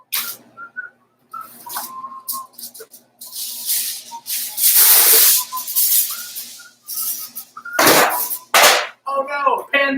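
A metal baking pan dropped in a kitchen while cooking for a large crowd, giving loud bright clatters and ringing bursts amid hissing and scattered sharp knocks.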